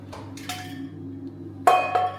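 A few sharp metallic clinks and clanks of pots and pans, including a small Teflon saucepan, being handled in a rental kitchen, spaced irregularly over a low steady hum.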